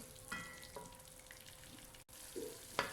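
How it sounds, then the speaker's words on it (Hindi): Eggs fry with masala in a pan, a faint, quiet sizzle broken by a few clinks and scrapes of stirring. "ये अंडे ऐड कर दिए हैं। अब हम इसको मसाले के साथ भूनेंगे"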